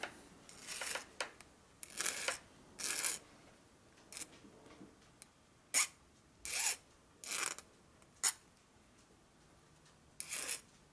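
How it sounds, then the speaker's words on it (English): Hand file rasping across a Harley-Davidson 1972 FLH shovelhead engine part, heard as short irregular bursts of scraping strokes with pauses between them, fairly close, with no talking. "So what we're going to do is just going to file it a little bit."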